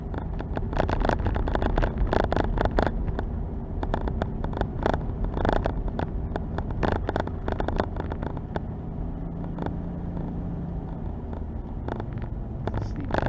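Engine of a 1989 Laforza held in second gear while rolling down a steep hill, a steady loud rumble mixed with rough wind buffeting, close and continuous, with no talk over it.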